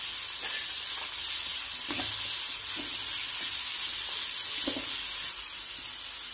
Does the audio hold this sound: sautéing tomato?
yes